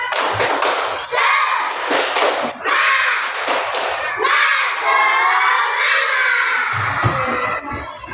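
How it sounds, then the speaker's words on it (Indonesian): Schoolchildren in a classroom performing a rhythmic spirit clap, sharp patterned bursts of claps mixed with loud chanting voices, close and energetic, ending in shouting. "Oke, tepuk semangat."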